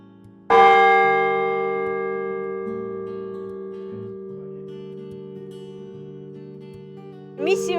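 A single church bell in Birsk district, Bashkortostan, is struck once, loud and near, its ringing tone hanging and slowly decaying for several seconds before a second strike begins at the end.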